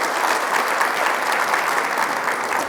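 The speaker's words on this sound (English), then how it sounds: "Please give them a round of applause." Audience at a water summit applauding a segment sponsor, a loud, continuous round of clapping that holds evenly for a few seconds without voices.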